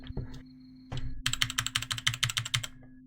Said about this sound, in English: It's a mechanical keyboard.